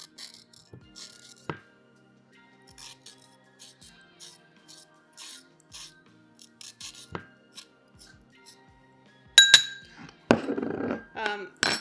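A knife scrapes scales off fish being prepared for homemade sushi, with light intermittent scratchy strokes and small clicks, then a louder burst of rapid scraping near the end.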